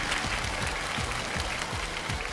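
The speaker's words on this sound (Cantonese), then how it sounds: "好，俾你掌聲" An audience on a television game show claps in a dense, steady burst of applause that fills the whole stretch at an even, fairly loud level.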